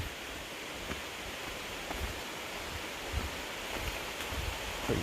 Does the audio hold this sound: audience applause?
no